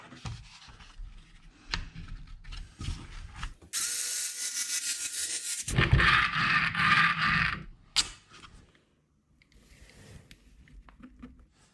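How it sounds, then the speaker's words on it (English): Tools tighten screws on the top deck of an Arrma Grom 1/12 RC rally car, with close ratcheting clicks, bursts of gritty mechanical whirring and short pauses between turns, and no talking. "But once you get the top deck on and screw it all down, it shouldn't have any issue then."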